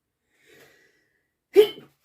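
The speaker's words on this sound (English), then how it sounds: "I'm maybe going to sneeze, just bear with me" A single sharp sneeze bursts out after a brief faint breath, close and alone in an otherwise quiet room.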